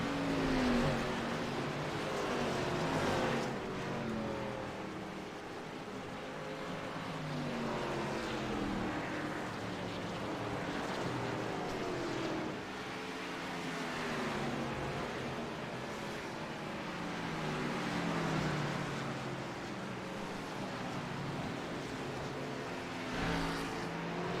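Ford stock cars racing at the Charlotte Roval in a sim racing game, with overlapping engine drones rising and falling continuously at moderate distance, no voices.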